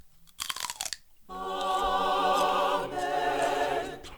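Raw celery is bitten and chewed close up, a sharp snap followed by a brief pause and then a long, loud, wet crunching that fades slightly at the end.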